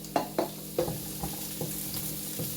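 Courgettes frying in hot oil with spices in a pot for ratatouille sizzle steadily while a spoon knocks and scrapes in a loose rhythm of about six strokes, up close with no talk.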